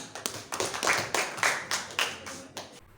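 A group claps by hand in an Indonesian classroom setting: roughly a dozen sharp, slightly uneven claps in a steady run, fairly close and moderately loud, with no talking.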